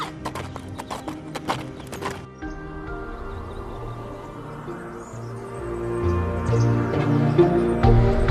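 Horse hooves clip-clop in a cartoon scene, starting as sharp, quick hoofbeats and then blending into a rumbling background with a whinny and faint crowd-like noise.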